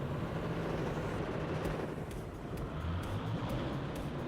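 A jet bomber in the WARNO video game roars overhead as a loud, broad rushing drone that swells steadily across the whole stretch, with faint clicks and battle noise beneath.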